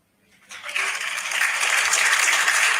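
A soundboard applause sound effect played during a livestream starts after a brief silence, swells quickly into a crowd of clapping, then holds at a steady, full level.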